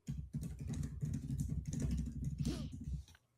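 Rapid typing on a computer keyboard, close and steady, a run of soft clicking keystrokes lasting a few seconds before stopping abruptly.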